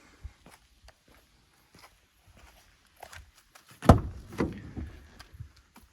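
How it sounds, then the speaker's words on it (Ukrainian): The door of a 2014 Renault Trafic 2.0 passenger van closes with a soft, muffled thud and a brief faint rattle. Scattered footsteps and small handling noises come before it in a quiet setting. "Дверки закриваються як в холодильничку, все тихенько."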